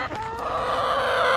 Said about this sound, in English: The chickens love to come out here and talk to us when we're working in the garden.